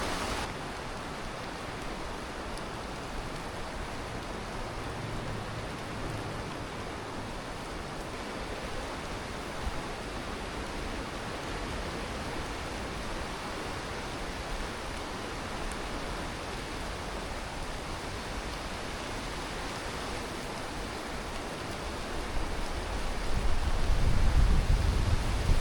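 Rain drums on a tarp shelter in the wilderness as a dense, even patter that holds steady throughout. It swells noticeably louder in the last few seconds as the downpour picks up.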